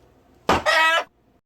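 Chicken clucking once, a short, close, abrupt squawk in two quick parts, standing alone against quiet.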